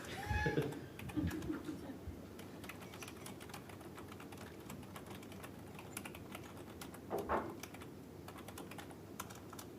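Rapid typing on a computer keyboard clicks away in irregular bursts, close and fairly quiet, with brief murmurs of voices near the start.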